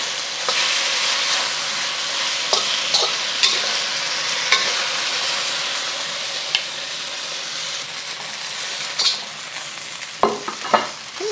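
Beef and Chinese broccoli sizzle steadily in a hot wok, a continuous bright frying hiss broken by scattered scrapes and clanks of stirring, loudest clatters near the end.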